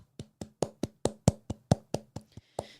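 Cupped hands tap gently on the body in a steady series of about twelve hollow, soft pats, close and evenly spaced, with no talking over them.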